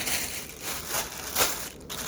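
A plastic bag crinkles and rustles close by as baby clothes are unpacked from it, a continuous soft crackling with brief louder crunches, no voices.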